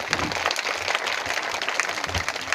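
A crowd gathered at a community visit in Latibonite applauds M. Oni, with continuous dense clapping and a few louder claps standing out near the start and end.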